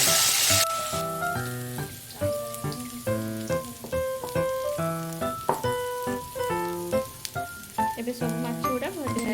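Fish pieces fry in fully heated oil in a kadai, a bright crackling sizzle running beneath louder melodic music that plays over the whole stretch.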